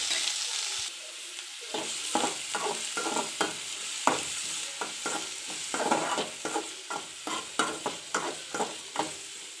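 Chopped onion fries in a little hot oil with mustard seeds and cumin, a steady sizzle broken by repeated rhythmic scraping strokes of a spoon stirring the pan, close and fairly loud.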